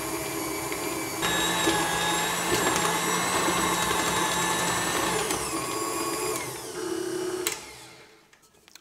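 A kitchen machine kneading bread dough, a steady loud whirring motor hum that holds for several seconds, then shifts and winds down toward silence at the end.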